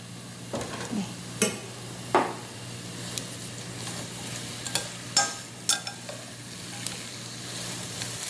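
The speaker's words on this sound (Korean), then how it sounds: "그래서 지금 양파와 파가 좀 반 정도 익을 때까지 볶아주겠습니다" Onions and green onions are stir-fried in a pan, giving a steady soft sizzle broken by scraping and stirring clacks from a utensil against the pan, close up and without speech.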